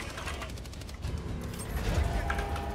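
Machine gun fire in Helldivers 2, a steady rattle of rapid shots at moderate level, running continuously over a few seconds amid game noise.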